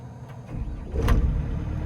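A DX80 digger with an intermittent engine management light cranks and its engine fires up, a low rumble that swells and holds steady near the listener, heard alone.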